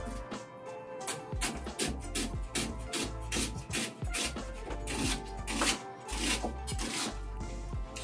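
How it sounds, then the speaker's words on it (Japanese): A kitchen knife finely mincing onion on a cutting board while keema curry is prepared at home, with rapid, steady, close chops repeating over continuous background sound. "玉ねぎを、みじん切りにします。"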